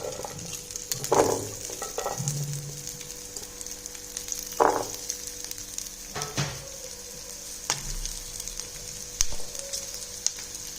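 Garlic and shallots frying in oil in a pot for a village-style fish curry, a soft steady sizzle with occasional clinks and scrapes of a spoon against the pot, no voices.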